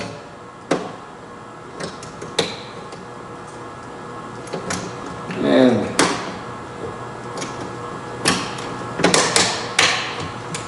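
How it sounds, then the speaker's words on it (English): A metal clamp is fitted onto a workpiece alongside magnets, giving a series of sharp clicks and knocks with a brief scraping rattle in the middle, close and fairly loud with quiet gaps between hits. "And there we go, there's the other clamp on"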